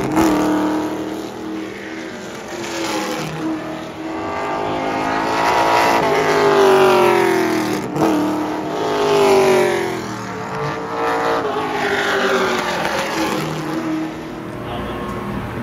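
Street stock race cars running early practice laps at Orange County Speedway, engines swelling and fading as they circle the asphalt oval in repeated passes, heard from a distance with a faint voice underneath.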